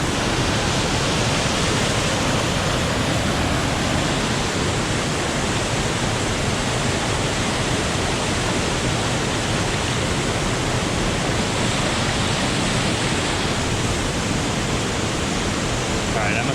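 A waterfall at Pozo Azul in Minca roars as a steady, dense broadband wash from close range, unbroken for the whole stretch.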